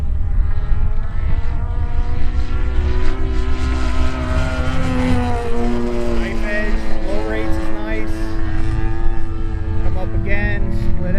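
A 50cc gas engine on an Extra 330LX radio-controlled aerobatic plane drones loudly and continuously, its pitch rising and falling through rolls and loops, while someone talks over it.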